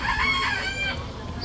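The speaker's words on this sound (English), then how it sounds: "Including that rooster." Rooster crowing outdoors, one brief, strained crow with rising and falling tones at moderate distance, fading into low background noise.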